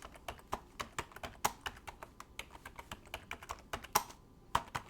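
Rapid, uneven clicking of keys on a computer keyboard comes from close by in a quiet room, with bursts of taps and a few louder strikes.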